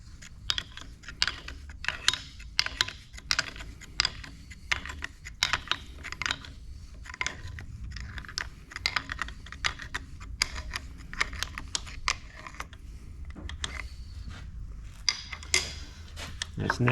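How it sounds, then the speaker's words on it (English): Nut being nipped up with a wrench on a lathe's taper turning attachment, drawing a stud into the slide: close, irregular metallic clicks, taps and clanks scattered over a low mechanical rumble. "So we need to nip this nut up and draw that stud up into the slide."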